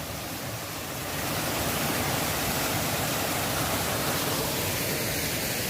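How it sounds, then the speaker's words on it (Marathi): Broad, steady rushing roar of a waterfall at Mount Abu that swells in the first second and then holds constant, with no voices. "भरपूर निसर्ग पाण्याचा धबधबा बघण्यासारखा खूप सुंदर आहे"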